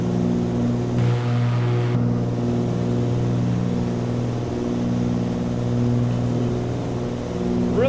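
Twin propeller engines of a Cessna 414AW Chancellor in Microsoft Flight Simulator drone steadily and loudly, layered harmonics holding throughout with a slight shift in tone early on.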